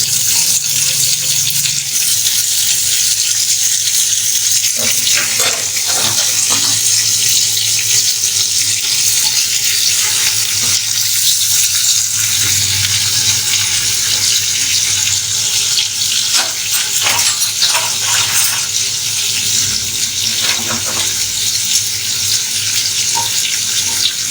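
Mutton pieces stirred and frying in a pot give a steady, loud hiss and sizzle throughout, with occasional scraping and clatter from stirring, close and continuous with no talk.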